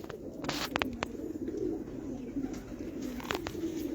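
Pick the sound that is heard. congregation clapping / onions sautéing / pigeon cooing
pigeon cooing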